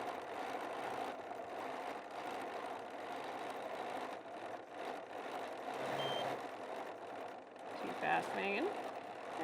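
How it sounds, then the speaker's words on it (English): Faint, high electronic beeps from the stitch regulator of a Bernina 990 sewing machine, set against a low machine hum and a voice talking in the background. "when you hear that beep, that tells me that I'm going too fast for the stitch regulator"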